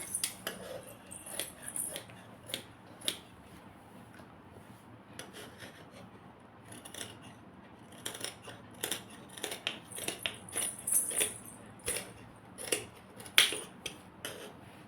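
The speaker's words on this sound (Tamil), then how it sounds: "அதை வந்து கட் பண்ணிக்க போகிறேன்" Scissors snip through fabric for a baby frock in short, quiet bursts of rasping cuts, some in quick runs and others spaced apart, close by with faint rustling of cloth between strokes and no talking.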